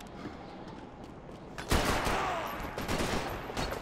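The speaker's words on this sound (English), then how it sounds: "Just people shooting at me." Heavy gunfire from enemies shooting in a Max Payne 3 shootout, a steady crackle of shots that swells into a louder, denser volley midway.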